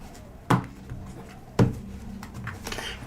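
Two sharp knocks on a deck of cards against a firm surface, about a second apart, close and fairly loud, followed by faint handling noise.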